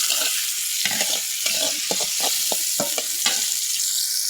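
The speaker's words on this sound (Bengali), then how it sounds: "এখানে আমি পেঁয়াজ ভাজে নিচ্ছি।" Onions frying in oil in a pan for a jackfruit curry give off a constant close sizzle, with scattered louder crackles and spatters punctuating the hiss.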